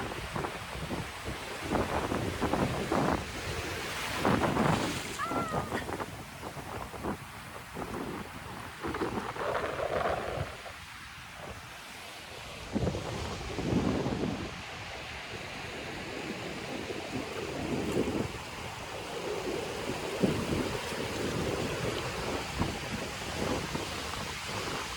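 Steady wind buffets a beach at Punta Cana in the Dominican Republic, a continuous broadband rush with gusts and microphone rumble, likely mixed with surf, running throughout without speech.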